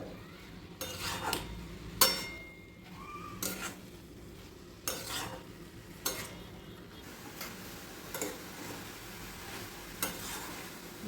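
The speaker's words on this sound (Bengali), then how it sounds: "লাল করে ভেজে নিতে হবে" Grated carrots fry in a pan for carrot halwa, a soft steady sizzle under repeated scraping stirs and occasional sharp clinks of a spoon against the pan, with no talking.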